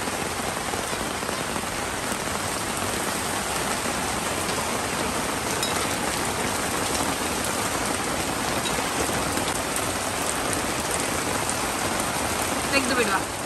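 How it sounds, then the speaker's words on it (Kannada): Heavy rain pours steadily, a dense unbroken hiss of drops drumming on surfaces close by, loud and constant throughout with a few sharper splashes near the end. "ಜೋರು ಮಳೆ ಇಲ್ಲಿ ನೋಡಿ, ಎಷ್ಟು ಜೋರು ಮಳೆ ಬರ್ತಾ ಉಂಟು ಅಂತ"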